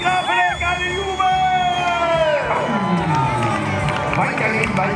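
Spectators at a nighttime knight tournament cheer loudly for a jousting knight, a dense mix of whoops, shouts and children's voices rising and falling in a lively crowd, steady and close throughout.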